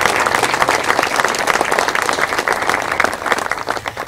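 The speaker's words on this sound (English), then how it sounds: "Can we give them a round of applause?" A live concert audience claps for members of the armed forces, a dense, steady round of applause that holds loud and close throughout without letting up.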